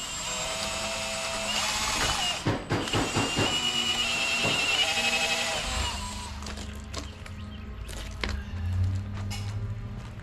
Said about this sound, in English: then I'll drill the hole from the other side so that it's clean